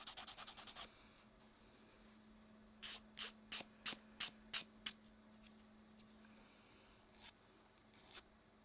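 A nail file rasps against a fingernail being shaped square with rounded corners, a quick burst of strokes and then a steady series of about eight short, evenly spaced scratches, close and quiet, with no talking.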